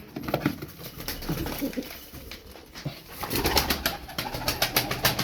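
Turkish Taklacı tumbler pigeons coo and murmur close by, with soft flutters and shuffling in the background; the cooing builds into a denser chorus toward the end.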